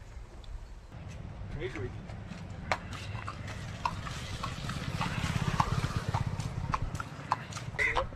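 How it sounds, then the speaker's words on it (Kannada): Hooves clip-clop in a steady rhythm during a horse ride, close and moderately loud beneath the rider's continuous talk. "ಈಗ ಕುದುರೆ ಮೇಲೆ ಹೋಗ್ತಾ ಇದ್ದೀನಿ"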